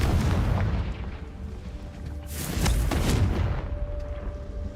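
A Confringo blasting spell goes off in Hogwarts Legacy, giving a deep booming explosion that swells and rumbles loudly with crackling bursts, set against ongoing low game ambience.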